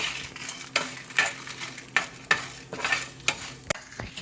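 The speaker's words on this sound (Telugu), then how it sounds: "ఇప్పుడు ఇవి బ్రౌన్ కలర్ వచ్చేదాకా వేపించుకోవాలి" Tamarind and flaxseeds dry-fry in a pan with a soft crackle as a spoon stirs and scrapes them repeatedly in an uneven rhythm, close up and fairly quiet.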